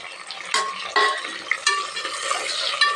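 Onion, green chili and tomato sautéed in a pan, with spoon scrapes and stirring bursts over a soft, steady sizzle, close and moderately loud, no voices.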